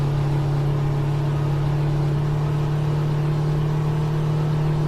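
Kenworth KW 521 truck engine held at full throttle in American Truck Simulator, a steady low drone with a constant whirring hum, loud and unbroken throughout.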